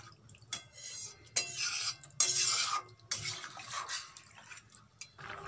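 Warm water being stirred into cauliflower and potato khichuri in a pot, intermittent watery sloshing and spoon scrapes in short separate bursts, fairly quiet, without talk.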